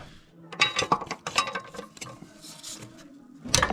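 A ratchet loosening torque converter bolts during removal of a 6L80 transmission from a GM truck, giving short bursts of quick metallic clicking that are close and separated by brief pauses.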